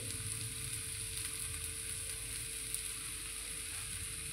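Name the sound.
mixing turmeric and salt into paneer bhurji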